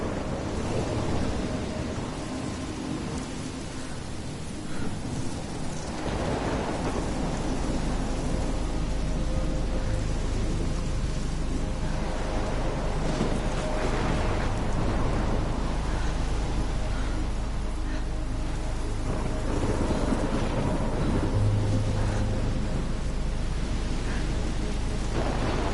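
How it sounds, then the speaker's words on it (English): Steady rain hisses through a thunderstorm in the game Life is Strange Remastered, with low thunder rumbling in a few swells beneath a continuous wash of noise. "Look at the storm."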